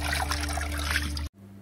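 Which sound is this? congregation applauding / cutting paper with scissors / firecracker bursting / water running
water running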